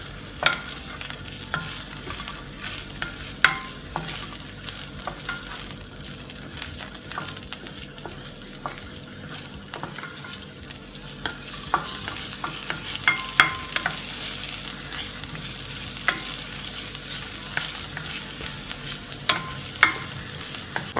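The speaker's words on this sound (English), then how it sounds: "I'm going to go ahead and add some sweet peppers." Sweet peppers sizzle steadily in a hot pan with repeated scraping and stirring clicks throughout, frying louder toward the end, while garlic shrimp is being made.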